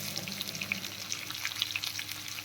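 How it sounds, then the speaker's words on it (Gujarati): Long-sliced onions sizzle with crackling cumin seeds in hot oil, a steady moderate frying hiss dotted with small pops, close by and with no voices. "ડુંગળીનો સરસ બ્રાઉન કલરની થાય ત્યાં સુધી આપણે શેકી લઈશું"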